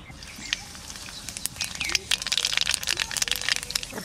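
Nigella seeds crackle and spit in hot mustard oil in a wok, a dense run of sharp pops and patter that grows busier and louder over a few seconds, close up with no talking.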